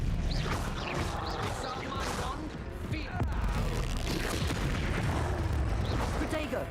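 The Confringo fire-blast spell in the video game Hogwarts Legacy sounds as a steady rumble of spell bursts and impacts within a chaotic combat mix, with faint voices underneath.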